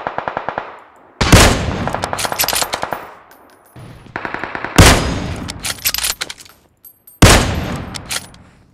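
Shooting video game gunfire: loud rapid automatic bursts in several separate volleys, each opening with a sharp crack and a rattling string of shots, with short quiet gaps between.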